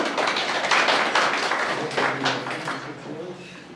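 A library celebration with a reading contest, where an audience applauds steadily for several seconds, a dense wash of claps that fades slightly toward the end, with a voice speaking over it.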